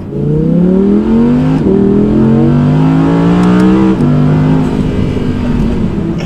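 An Audi R8 V10 engine revs hard and climbs through the gears, a loud, steady roar rising in pitch with brief dips between shifts.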